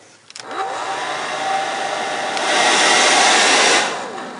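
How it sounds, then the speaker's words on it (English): A hair dryer on high, powered by a Bluetti EB240 portable power station inverter, starts with a click and whirs at full blast, its airy roar rising partway through, then cutting off abruptly near the end. "it does not like the hairdryer on high for more than a split second"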